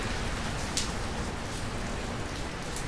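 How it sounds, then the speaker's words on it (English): Steady rain pours on a Manhattan street during a morning walking commute, a dense, continuous hiss of drops spattering pavement and surfaces nearby, even in loudness with a few brief sharper splashes and no talking. "This is a good amount of rain."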